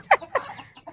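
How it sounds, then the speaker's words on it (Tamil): Chickens being let out of their coop, a few short, close clucks in quick succession within a second, with no talk over them. "கோழி திறந்து விட்றாரு பாருங்க"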